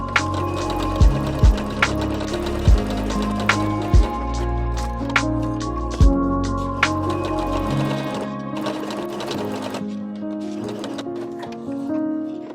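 A home sewing machine runs a line of basting stitches, a rapid, steady mechanical whirr with a few sharp knocks scattered through it. It is heard close up and stops near the end.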